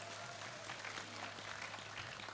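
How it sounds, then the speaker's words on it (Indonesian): Steady audience applause fills a public gathering in Indonesia with a regional head present, a dense, even wash of many hands clapping at once, somewhat distant and soft, with a low hum underneath and no voices on top. "Tepuk tangan untuk PSKJ."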